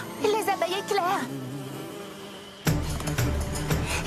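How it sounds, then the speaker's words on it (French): Cartoon lightning bees from My Little Pony buzz in wavering, insect-like drones, first mixed with a warbling tonal sound, then after a short lull a denser, louder swarm buzz returns under busy background sound. "Les abeilles éclairs."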